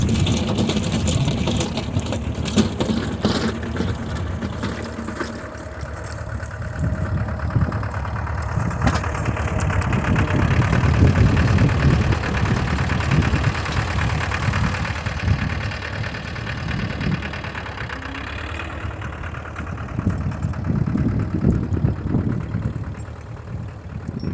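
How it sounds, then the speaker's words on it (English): Loose tire chains jingle and clink on a vintage International two-wheel-drive tractor working through snow, metallic rattling layered over the low idling engine throughout, swelling and fading as the tractor moves. "The jingling is the chains because I leave them kind of loose, so they can bunch up and help you get out."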